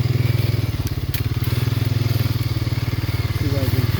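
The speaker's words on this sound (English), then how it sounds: "I'm going to put it in four-wheel because we're going to head off into the snowbank here in a minute." A four-wheel-drive vehicle's engine chugs on a spring trail through snowy woods, with loud, close, rapid rhythmic pulses throughout and faint crunching underneath.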